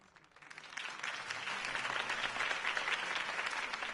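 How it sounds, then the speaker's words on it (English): Crowd applause after a campaign speech in Batman: The Telltale Series, rising within the first second into a full, steady clapping from many people that continues evenly at a moderate distance. "If only Mr. Wayne, my campaign's largest backer, could have heard that applause"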